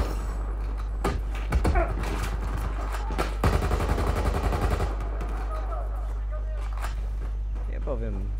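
Weapon fire in the Battlefield 4 video game, with short bursts of rapid automatic shots at about one-and-a-half and three-and-a-half seconds over a steady low game hum and scattered clicks.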